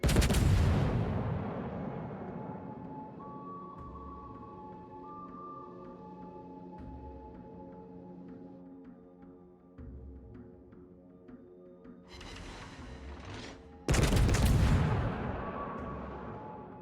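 Warship naval gunfire in the World of Warships video game: a heavy booming salvo opens, then distant rumbling shells and faint tonal effects, followed by another sharp loud blast near the end.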